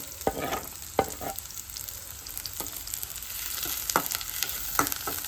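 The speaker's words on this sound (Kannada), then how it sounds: "ಫಸ್ಟ್ ಒಂದು ಪ್ಯಾನ್ಗೆ ಆಯಿಲ್ನ ಹಾಕ್ಕೋಬೇಕು, ಆನಿಯನ್ನ ಹಾಕ್ಕೋಬೇಕು." Onions sizzle steadily in oil in a pan, with sharp clacks of a spoon stirring them at irregular intervals and no talking.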